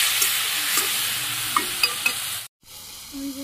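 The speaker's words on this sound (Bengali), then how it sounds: "নাড়াচাড়া করে ভালোভাবে কষিয়ে নিই" Spiced food with salt, turmeric and chili powder sizzles in a pan while a spoon stirs and scrapes with soft clicks, for a rural-style muri ghonto fish-head dish; the frying stops abruptly near the end, leaving quiet room noise.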